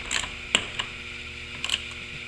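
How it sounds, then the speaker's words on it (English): A 1/2-inch ratchet snugging seat track bolts on a Trans Am or Camaro gives a few sparse, sharp little clicks, quiet and close, with a faint steady background between them. "Grab your 1/2-inch ratchet, we'll just snug them up for now."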